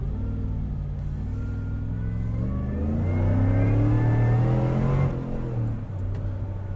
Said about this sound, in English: it's almost impossible to drive it without romping on the gas over and over and over again because it sounds so damn cool.